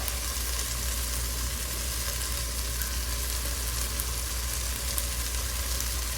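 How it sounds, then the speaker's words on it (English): Sri Lankan curry powder toasts in a hot pan, giving a steady, dense sizzle and crackle that holds evenly throughout, close and continuous with no talking. "Want to just kind of just lightly toast the spices"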